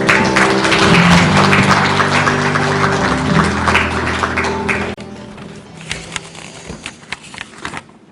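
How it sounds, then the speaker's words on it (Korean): Attendees at the founding ceremony of a farm and food policy forum applaud a lawmaker coming up to speak. Loud sustained clapping over background music thins after about five seconds into scattered fading claps. "힘찬 박수로 맞이해 주시기 바랍니다"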